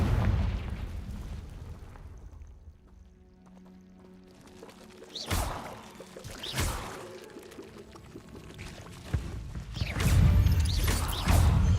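Confringo blasting spells in Hogwarts Legacy combat against a goblin: several loud, booming fiery bursts spaced a few seconds apart, with rumbling game ambience and effects between them.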